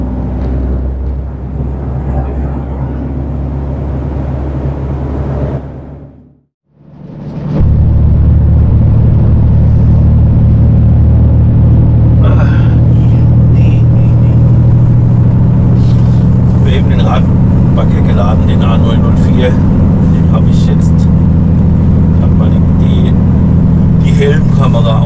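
A car being driven toward Gangloff gives a steady, close low engine rumble throughout, dipping briefly to near silence before it resumes, with talk over the top.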